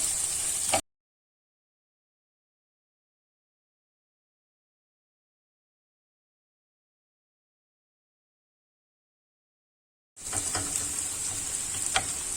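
Eggs fry with potatoes in a pan, a bright steady sizzle heard only briefly at the start and again near the end, with silence between.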